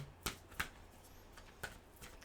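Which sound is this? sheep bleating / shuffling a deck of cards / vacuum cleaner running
shuffling a deck of cards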